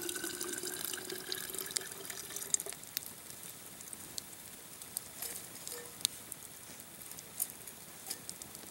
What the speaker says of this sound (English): what I'm doing there is filtering out some of the floaties, some of the ashes in the water